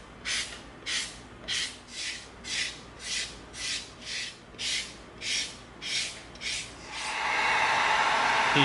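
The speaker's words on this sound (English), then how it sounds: "Let's come in with our 220 sanding stick." A 220-grit sanding stick rasps back and forth on an EVA foam edge in about twelve steady, even strokes, close and dry, followed by a sustained hissing rush at the end.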